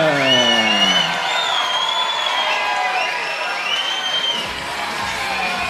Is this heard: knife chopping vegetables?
no